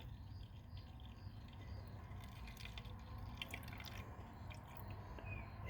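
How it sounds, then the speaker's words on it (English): Gasoline from the fuel line of a Huskee rototiller trickles into a cup as a faint, steady, close-up dribble over low background hiss. "and I'm letting it drain into the cup."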